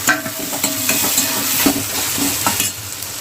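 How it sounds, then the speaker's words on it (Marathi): Onion and tomato fry in a pan for dal tadka, a busy sizzle broken by repeated scraping stirs at a brisk irregular pace, close and without voices. "कांदा जो आहे तो फ्राय होत आहे तर आपण इथे टॅमॅटो पण आपण लगेचच फ्राय करून घेऊया"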